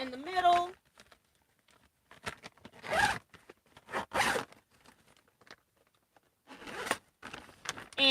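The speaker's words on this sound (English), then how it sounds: "So I could zip this bag up both ways around," A double zipper on a Tyvek quilt storage bag is pulled open and shut in several quick, close, crisp zips, with short pauses between them in a quiet room.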